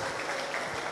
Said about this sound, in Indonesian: Sekali lagi kita tepuk tangan untuk adik-adik dan anak-anak kita.